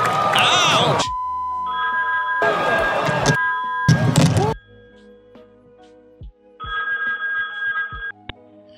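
A telephone ringing in short repeated bursts, loud and close, with bright tonal trills separated by pauses, followed by a brief spoken voice.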